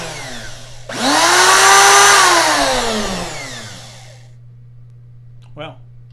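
A repaired woodworking router motor starts abruptly with a loud, close whine, holds speed for a few seconds, then winds down and fades; a short voice sound comes near the end.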